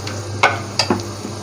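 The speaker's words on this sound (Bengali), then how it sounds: "একটু হালকা ব্রাউন করে রসুনটা একটু ভাজা নেব" Garlic frying until lightly browned for a beef curry gives a soft sizzle beneath a few sharp clicks and scrapes of a spoon against the pan, spaced irregularly, with no voices.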